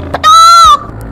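A woman imitates a chicken with her voice: one loud, nasal, drawn-out clucking squawk up close, with soft, short sounds before and after it.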